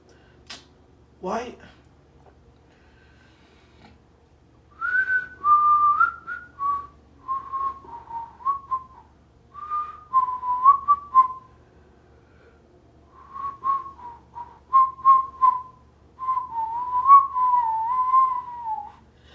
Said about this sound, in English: You get your lips wet for the whistling.